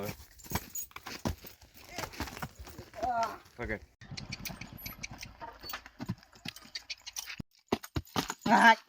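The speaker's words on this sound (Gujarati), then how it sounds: "ઘોડી ત્રણ ચાર કિલોમીટર હાલી ગઈ છે" A mare walks along, her hooves clip-clopping in a steady rhythm that is close and fairly loud, while someone talks over the footfalls.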